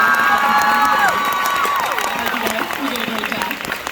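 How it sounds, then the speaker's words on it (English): An audience at a Stranger Things cast panel at Fan Expo Canada bursts into loud applause with cheering and whoops, the clapping dense and close as excited shouts rise over it. "big round of applause for our"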